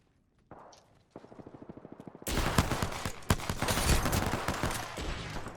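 Video game gunfire, with a quieter rhythmic burst of shots followed by several seconds of loud, dense automatic fire and rapid overlapping shots.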